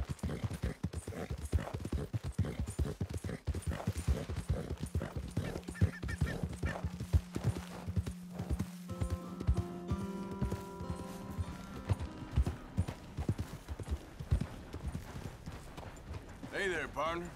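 Steady rhythmic clip-clop of horse hooves in Red Dead Redemption 2 runs throughout, mixed with game sounds and occasional talking, with a sustained tone and brief melodic notes midway.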